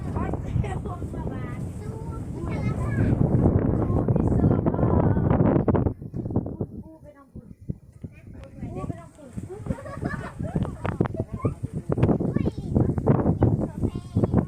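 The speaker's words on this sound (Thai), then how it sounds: "อ๋อลมธรรมชาติโคตรงามเลย" Natural wind blowing outdoors in an open field, gusting loudly across the microphone with rough buffeting, easing off briefly midway, while people chat over it.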